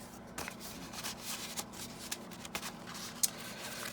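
Soft paper rustling and sliding as a small slimline paper card is pushed into place, close and quiet, made of brief scraping strokes over faint background hum.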